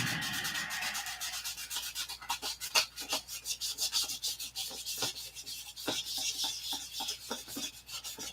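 Wood is sanded by hand in repeated quick rasping strokes that keep a steady scrubbing rhythm close by, with no talking.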